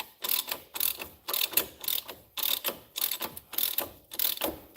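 Hand ratchet working on a front strut nut of a 2012 Chevy Malibu LT, a steady run of close, crisp clicking bursts in even strokes with brief pauses between pulls, no talking.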